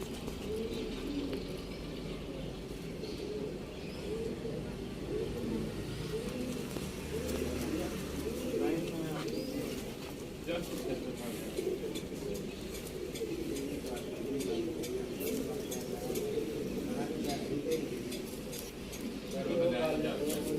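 Teddy pigeons for sale in Sialkot coo in soft, overlapping, continuous murmurs, close by and fairly quiet, with a low steady background hum throughout.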